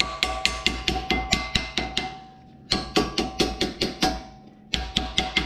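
Repeated light metallic taps seat new brake clips on a Mustang Cobra during a brake job, coming in quick bursts of sharp, evenly spaced knocks with a short pause between groups, close and fairly loud.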